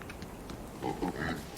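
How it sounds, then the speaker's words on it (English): The Pig King in Don't Starve gives a few soft, low pig grunts and oinks in short bursts, faint against quiet background ambience. "Already found the Pig King."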